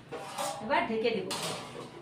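Lid set on a pot of lentils and gourd leaves, a quick metallic clink and scrape of cookware, soft and close, with a faint voice in the background.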